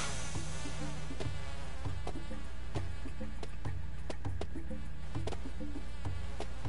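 Bees swarm in the Goosebumps Dead of Night video game, a constant close insect buzz mixed with game sound and repeated sharp clicks, with no talking.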